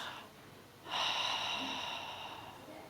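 A sharp, breathy exhale through the nose during a Pilates stretch, rising suddenly and then fading slowly, faint and close.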